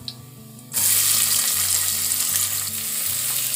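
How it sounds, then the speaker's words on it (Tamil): Chopped onions hit hot oil in a pan for a raw papaya gravy and burst into a loud, continuous sizzle that carries on steadily, close up, with no talk. "இப்போ வெங்காயம் சேர்த்துடலாங்க"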